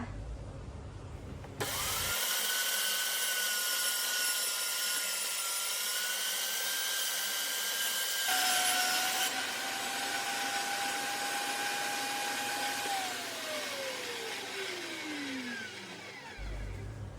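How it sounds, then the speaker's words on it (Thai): An electric grinder blending chili and garlic runs as a loud, continuous motor whir that starts abruptly, steps to a new pitch midway, then winds down as it switches off. "หลังจากที่เรา ปั่น พริกกับกระเทียมนะคะ เสร็จเรียบร้อยแล้วนะคะ"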